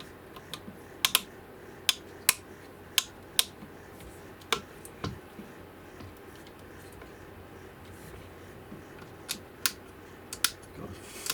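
Toggle switches on a Thrustmaster HOTAS Warthog throttle flip with sharp, crisp plastic clicks, close up, singly and in quick pairs with pauses between them, over a quiet background.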